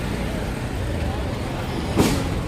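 A tempo carrying a group to Bhima Koregaon runs with a steady, close engine rumble and road noise throughout, broken by a brief knock about two seconds in.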